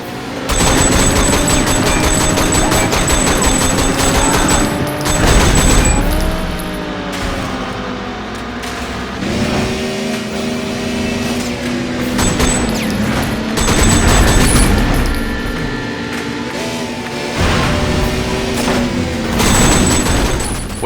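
Rapid gunfire rattles in repeated bursts during a car chase in the video game Sleeping Dogs. Loud revving engines and crashes sit underneath, with no pauses across the whole stretch.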